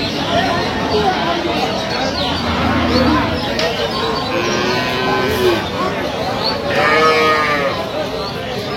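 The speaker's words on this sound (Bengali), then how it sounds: "শাহিওয়াল গাভী বাছুর আমরা দেখছিলাম এখানে।" A Sahiwal cow with her calf at a busy cattle market lowing several times, drawn-out moos rising over constant crowd chatter and nearby voices.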